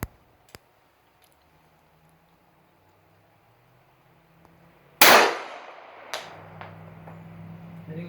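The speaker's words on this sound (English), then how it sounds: "Hitting the plate." Shots from a Remington-Rand 1911A1 pistol striking a steel plate, one sharp loud report with a metallic ring and a few faint clicks and smaller knocks around it.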